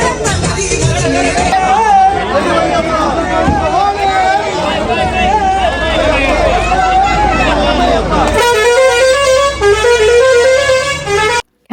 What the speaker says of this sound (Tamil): கடைசியாக என் ஹஸ்பண்ட் கிளம்புன அந்த வண்டி சத்தத்தை தான் நீங்கள் கேட்டிருப்பீங்க